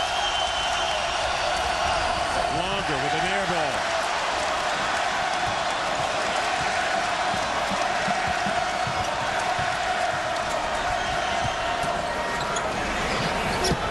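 A packed basketball arena crowd at a Kansas Jayhawks vs Oklahoma Sooners college game roars in a steady, loud wash of cheering, with a commentator talking over it.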